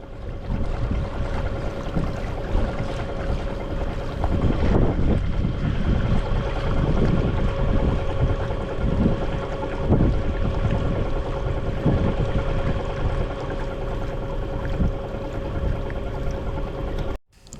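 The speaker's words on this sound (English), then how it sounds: "We are now cruising through the Yacht Harbor of Riga." A tour boat cruises through the yacht harbor of Riga, its engine droning steadily with wind buffeting the microphone and water washing along, sustained and fairly close throughout.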